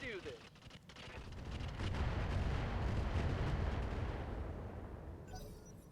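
Mech weapons in the RogueTech game firing incendiary ammo, a heavy rolling barrage of booming shots that swells into a sustained roar and then fades, with a brief sharper crackle at the end.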